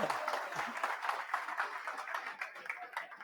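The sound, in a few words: students clapping hands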